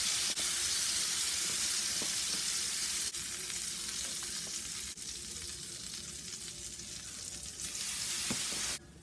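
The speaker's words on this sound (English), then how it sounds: "dip it into the red velvet custard, like so. And then onto the hot griddle." Slices of Texas toast dipped in red velvet custard sizzle and fry on a hot griddle, a steady close hiss with occasional faint pops and clicks, no voices.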